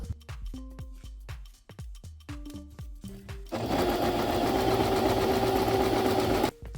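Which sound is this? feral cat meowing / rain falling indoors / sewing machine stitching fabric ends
sewing machine stitching fabric ends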